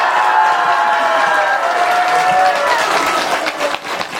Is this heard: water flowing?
no